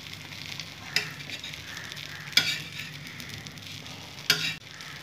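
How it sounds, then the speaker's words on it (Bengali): Omelettes fry in hot oil in a pan, a soft steady sizzle broken by three sharp utensil clanks and scrapes against the pan. "এইভাবে আমি অমলেটগুলো ভেজে নেব"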